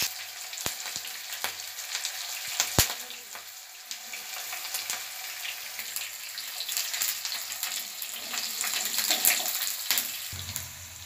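Mustard seeds, cumin and green chili sizzle and crackle in hot oil for a vegetable bharta, a steady close frying hiss broken by sharp seed pops, with no talk over it.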